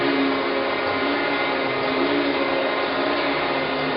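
Okamoto ACC-1224DX automatic surface grinder, a 1993 12-by-24-inch machine, grinding a part with a loud, steady, continuous whirring roar that holds level throughout.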